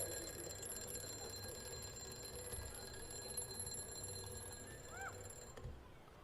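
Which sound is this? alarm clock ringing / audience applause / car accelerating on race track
alarm clock ringing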